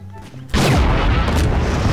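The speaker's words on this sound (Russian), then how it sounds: "Воздушный удар." An air strike explosion in the Garry's Mod video game lands as a sudden loud boom, followed by sustained rumbling debris noise, after a quieter stretch of game sounds.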